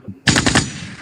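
Firecrackers burst in a sudden loud rapid string of four or five sharp cracks, then a trailing hiss fades.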